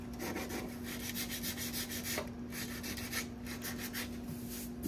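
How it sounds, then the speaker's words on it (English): Steady dry scratching of sandpaper on car body filler on a Tesla Model 3, rubbed back and forth in quick strokes, close and continuous, with a faint background hum. "Dry, I'm sanding it."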